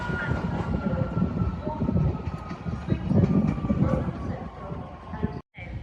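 A CrossCountry passenger train from Derby to Edinburgh passes at York on the East Coast Main Line with a steady, close rumble and faint rail clatter for several seconds. It ends in a brief cut.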